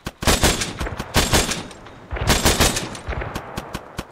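Heavy automatic gunfire in the military game ArmA 3 during a Humvee ambush: rapid bursts of loud, close shots in several clusters, no talk.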